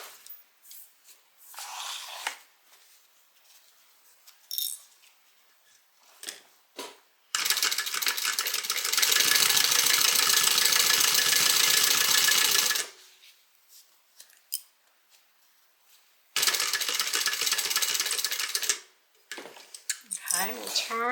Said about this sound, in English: we're going to stitch down, moving our pleat out of the way, stitch across, and then we're going to stitch right in between the pleat